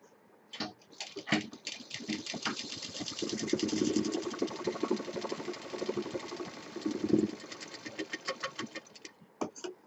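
An electric sewing machine runs in bursts of rapid stitching along the side seam of a handmade designer handbag, with short pauses and a steady motor hum between.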